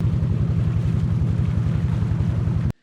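Steady low engine drone with a regular chugging pulse from a river ferry boat departing for Char Rajibpur, Kurigram, mixed with wind and water rush, continuous and fairly loud until it cuts off abruptly.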